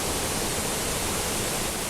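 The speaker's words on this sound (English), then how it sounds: "at the base of the waterfall here." A waterfall roars nearby on a hiking trail, a steady, loud, broadband rush of water with no pauses.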